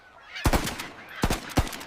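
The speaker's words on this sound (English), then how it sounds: "Shots rang out. Hunters were nearby." Hunters fire guns near a marsh where wild geese gather, in a children's fairy tale. Three sharp, booming bangs sound at close range, the last two in quick succession.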